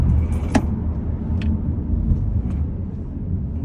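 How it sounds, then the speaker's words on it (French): An Opel Astra braking hard in sport mode, a continuous close road and engine rumble with a few faint knocks and no talk. "Et là, je vais freiner un peu plus fort."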